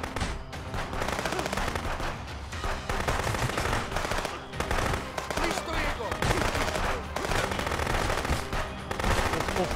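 Rapid bursts of automatic gunfire in the video game Contraband Police, dense and loud volleys of machine-gun shots repeating throughout with short gaps between them.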